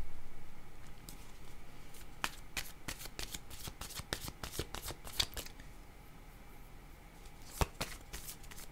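Tarot cards are shuffled by hand in a quiet room: a run of crisp, close riffles and light slaps, dense at first and then thinning out, with no one speaking.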